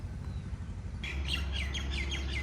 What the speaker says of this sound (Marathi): या ठिकाणी इतका सुंदर पक्ष्यांचा आवाज येतोय ना